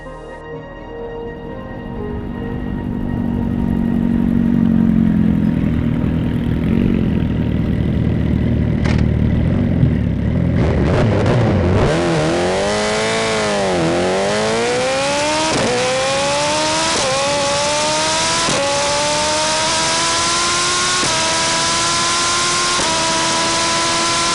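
A 370bhp TTS SuperBusa motorcycle accelerates flat out on a runway, loud and close. The engine roars and climbs through repeated rising revs, with each gear change breaking the pitch, and the tyres are strained. No one speaks.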